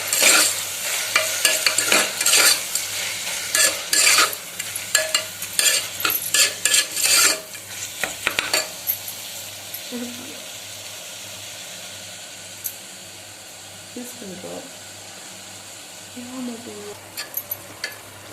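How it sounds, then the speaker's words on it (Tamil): Onions and tomatoes, salted, are sautéed in a pan for a home chicken biryani, with loud scraping spoon stirs and sizzling at first, then a quieter steady frying hiss with occasional clinks and a brief voice. "வெங்காயம் தக்காளி சீக்கிரமா வதங்கிடும்."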